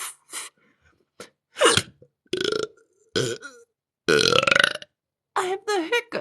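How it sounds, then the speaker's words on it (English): A woman's repeated hiccups, short sharp vocal bursts that come one after another in an irregular rhythm with brief silences between them, close and fairly loud. "Hiccups are happening."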